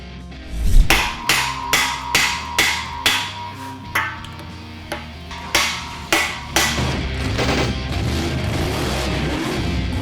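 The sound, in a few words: hammering core plugs into an engine block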